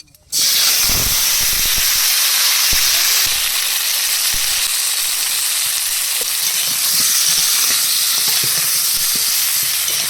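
Plantain and potatoes sizzle steadily in hot oil as they are sautéed in a village kitchen, a loud, continuous frying hiss with occasional stirring clatters, no voices.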